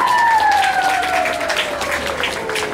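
Loud, steady applause from a crowd at a 6th grade graduation for the award winners. The clapping is dense and sustained throughout, and a descending tone sounds faintly beneath it.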